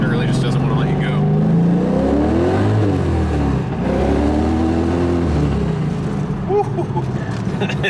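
LS1 V8 swapped into a BMW Z3 revving hard, loud and close, with harmonic sweeps rising and falling through several throttle blips over a steady aggressive rumble, and talk audible underneath.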